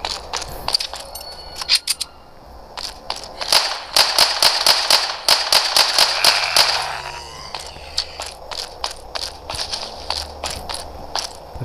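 Rapid pistol shots crack in quick bursts with short pauses, sharp and close, alongside clicking mechanical sounds, gunfire in the video game The Walk.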